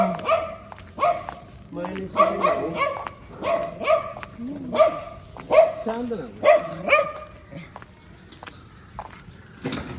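Dogs bark and yip repeatedly during a morning walk home in Uttar Pradesh, with a string of fairly close barks and whimpers in uneven bursts while footsteps and voices carry on.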